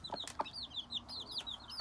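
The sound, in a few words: hen and chicks clucking while eating grain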